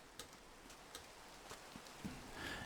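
Steady Minecraft rain hisses softly throughout, with scattered droplet ticks and light patters on surfaces at low volume and no voices.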